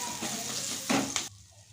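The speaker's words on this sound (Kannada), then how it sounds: "ಮೆಣಸಿನ್ಕಾಯಿ ಹಾಕಿ ಫ್ರೈ ಮಾಡಬೇಕು" Green chillies frying in a pan while cooking chitranna, a close, steady sizzle with a few stirring clatters, ending abruptly.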